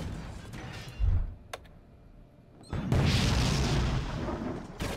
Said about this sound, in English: Our artillery is hitting them.